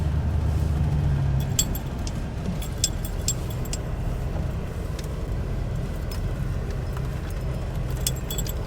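Big, heavy four-wheel-drive Suburban crawling off-road in first gear with light throttle, a steady low engine rumble and drone, with scattered light rattles and clinks over it.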